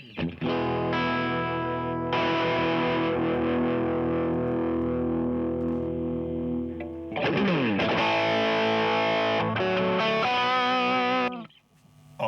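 Electric guitar played through a Klon overdrive pedal into an amp, sustained distorted chords ringing out, then a busier strummed passage, loud and close with no talking.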